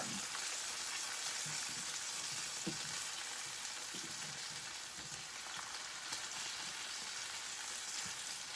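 Sausages fry in a pan with a steady, soft crackling sizzle, scattered small pops and spits breaking through the continuous hiss.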